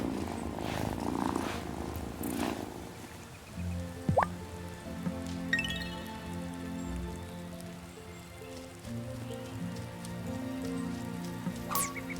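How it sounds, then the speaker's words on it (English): A cat purring in the farming life video game Wylde Flowers, a steady low rumble running through the clip alongside soft rain-like patter and a few brief game chimes, with no talking. "Kitty, kitty."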